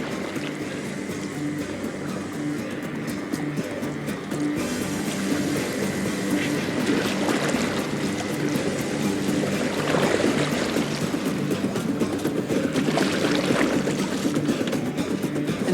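A boat moving through water in Assassin's Creed Valhalla: a steady, close wash of sloshing, rushing water that continues throughout and grows a little louder toward the end.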